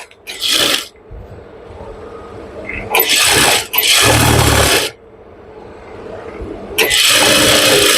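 A sewing machine stitching pajama pants runs in loud whirring bursts, some under a second and others over a second long, separated by quieter pauses filled with low handling noise.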